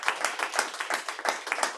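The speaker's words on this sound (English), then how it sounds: "Thank you, ladies and gentlemen. You can applaud." An audience applauds at a Rosh Hashana service, a short burst of quick, fairly close hand claps in an uneven patter from a small group.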